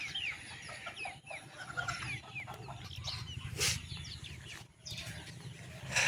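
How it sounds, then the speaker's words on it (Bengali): Broiler chickens on a small farm that also keeps ducks, pigeons and local hens cluck and chatter continuously at moderate distance, with short bird calls scattered over a steady rustling background. "আর ব্রয়লারগুলা দেখেন"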